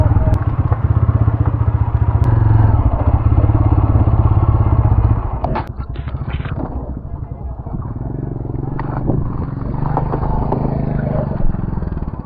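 A motorcycle on a foggy Malshej Ghat road idles loudly and then throttles down and stops as it is pulled over at the roadside, followed by clunks and scrapes, with a rider speaking over it.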